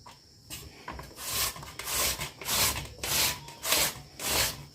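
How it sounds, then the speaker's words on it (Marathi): Rhythmic rasping strokes, about five in a row, as a potato is scraped back and forth across a large grater, close by with no voices. "मोठ्या खिसणीने बटाटा खिसायचं"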